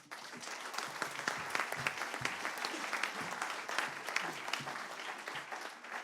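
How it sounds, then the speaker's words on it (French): Steady, dense applause from an audience at a youth and environment event, continuous clapping for the full stretch with no voices rising above it. "s'applaudit très fort"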